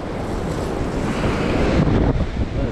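Wind gusts across a seaside pier in a steady, loud rush of buffeting air, mixed with a broad wash like surf below, and no voices.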